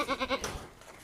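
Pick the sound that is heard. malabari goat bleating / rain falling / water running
malabari goat bleating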